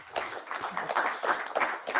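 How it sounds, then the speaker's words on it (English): A small conference audience claps steadily and briskly after a talk, close by, a dense patter of hands with no voices over it. "A big round of applause for her"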